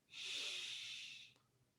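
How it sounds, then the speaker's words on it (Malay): A single quiet, breathy inhalation taken between lines of Quran recitation practice, a soft hiss lasting about a second before trailing off into near silence. "ambil nafas."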